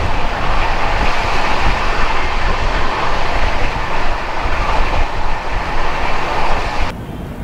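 A Howrah–Dhanbad Black Diamond Express with new LHB coaches runs after leaving Raniganj, giving a loud, steady rolling rumble with wheel clatter throughout, heard from inside the train, then dropping slightly at the end.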